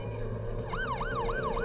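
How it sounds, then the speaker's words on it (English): An ambulance siren wails in a steady rising-and-falling cycle over a constant low traffic rumble, with no one speaking. "An ambulance rushed him to the children's hospital."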